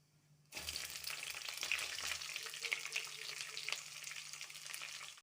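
Roughly chopped medium onions sizzle steadily in hot oil with crackling cumin seeds in a kadai, a dense close frying hiss that begins abruptly after a brief quiet start and holds evenly to the end, with no talking.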